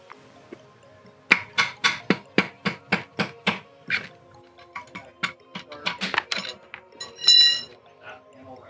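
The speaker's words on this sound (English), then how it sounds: "you'll just give it a couple of taps with a hammer" A quick run of sharp metallic hammer taps knocking out a wrist pin from a Subaru Legacy GT engine, about a dozen evenly spaced, then a few more irregular knocks, close up with faint talking around them.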